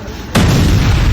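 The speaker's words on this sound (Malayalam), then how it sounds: "അച്ഛനന്ന് ചെക്കന്റെ കല്യാണത്തിന് വെടിക്കെട്ടാണ്" Firecrackers go off at a wedding celebration: after a quiet moment, one sudden loud blast bursts close by and leaves a heavy, sustained rumbling roar.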